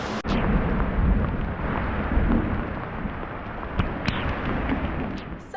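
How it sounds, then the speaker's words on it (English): Thunder rumbles through a steady wash of rain-like noise on a hike during a thunderstorm, with a few sharper cracks standing out late on against the continuous broadband roar. "Yep, I'm walking in a thunderstorm."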